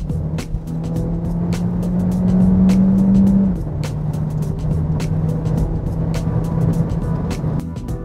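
A Peugeot 3008 Hybrid 225 in sport mode, petrol and electric motors combined at full power, hums steadily under load while rolling along the road, the drone swelling briefly then settling, with road noise and faint ticking.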